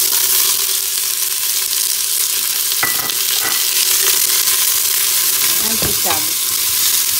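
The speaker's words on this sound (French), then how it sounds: "je vais faire revenir mes oignons" Red and white onions fry in hot oil with a loud, continuous hissing sizzle, broken by a few stirring scrapes, while a voice speaks briefly.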